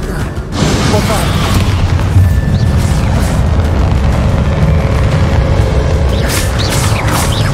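Bombarda explosion spell going off in Hogwarts Legacy, a loud sustained boom and rumbling eruption over constant battle noise, with voices heard amid the clamor.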